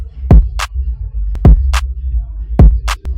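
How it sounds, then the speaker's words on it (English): A simple programmed electronic beat for a catchy piano track: a deep kick drum thumps three times at an even pace, each followed by a sharp clap, playing alone and loud. "For the kick, I did some simple clap. Just like that, then I added the kick."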